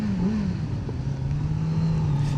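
A 2025 Kawasaki Z900 four-cylinder motorcycle engine burbles steadily at low revs, a deep, smooth drone with a slight rise in pitch early on, close and continuous.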